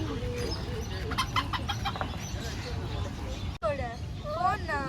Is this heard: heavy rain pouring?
no